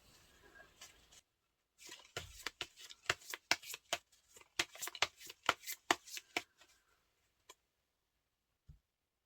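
Tarot cards shuffled close up in a quick run of crisp riffling flicks and slaps, with a pause before and a couple of stray taps after, no talking.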